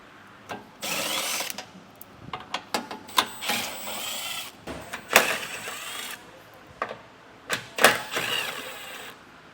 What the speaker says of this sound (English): I'm going to be using a 12mm socket to actually take these off today